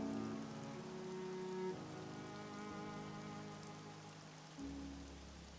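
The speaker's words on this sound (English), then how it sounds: "Well, it's raining, so that should help." Steady rain falls in the video game Xenoblade Chronicles 3, an even, soft patter on surfaces that runs throughout. Faint sustained tones sit quietly beneath it.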